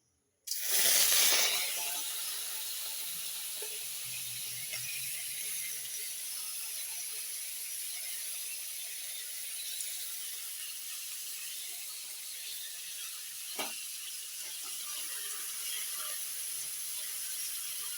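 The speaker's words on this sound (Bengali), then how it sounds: "তেল গরম হয়ে গেছে এবার আমি কাঁকড়াগুলো দিয়ে দেবো" Desi crabs hit hot oil in a pan for a spicy crab curry, starting with a loud burst and then a steady, close sizzle and hiss that continues throughout.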